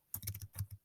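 About seven quick clacking keystrokes on a Chromebook keyboard as a URL is typed, close and crisp, with no talk.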